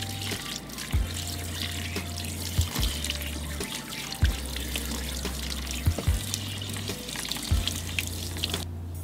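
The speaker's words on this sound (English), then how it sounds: "Rinsing the front going back first so it can bring all the shampoo and residue and everything to the back." Water runs from a salon sink spray as shampoo is rinsed out of hair, a steady close splashing and trickling interrupted by several brief thumps and shifts in flow, with no talk.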